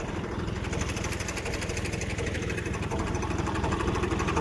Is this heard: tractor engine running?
yes